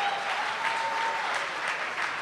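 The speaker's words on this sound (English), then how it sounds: "Give him a round of applause." Sustained applause from a seated audience at the Philadelphia Independent Film Awards 2017, a dense, steady wash of many hands clapping that holds at an even level for the full stretch, with a faint tonal hum running underneath.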